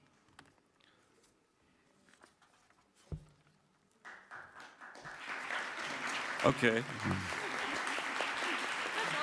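Audience clapping after a lecture: quiet room with a brief spoken word at first, then applause swells from about four seconds and holds steady and fairly loud to the end.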